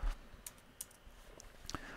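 A keyboard shortcut pressed on a Mac computer keyboard while editing in Adobe Premiere Pro, heard as a few faint, sparse key clicks spread over two seconds in a quiet room.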